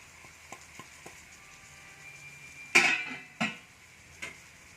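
Hot fried tempering poured into a bitter gourd curry made without coconut, a sharp burst of sizzling with a few quieter follow-up hisses and light clinks of a utensil against the pan.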